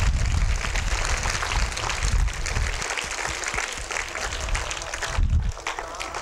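An audience at a school stage event applauds to welcome a teacher, dense sustained clapping from many hands with a few cheers, loud and continuous throughout.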